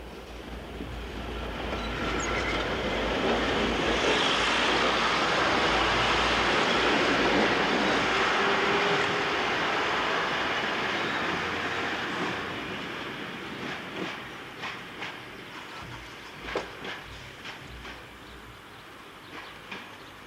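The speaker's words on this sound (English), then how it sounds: "the brusque, snorting diesel multiple unit" A diesel multiple unit on the Bedford branch line near a level crossing swells into a loud, roaring pass, then fades into quieter clicks and knocks as it moves away.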